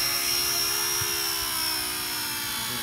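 A Blade Apache RC helicopter's motor gives off a continuous, close, high-pitched whine with a faint rotor hum beneath it, holding steady throughout.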